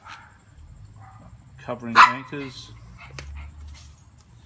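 A family dog gives a few sharp barks and yips mid-clip in a room while someone talks steadily through an ankle-taping demonstration.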